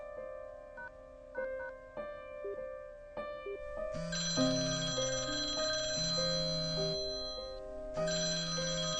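A phone ringtone plays a repeating electronic melody, starting as a simple tune and swelling into a fuller, louder chiming pattern.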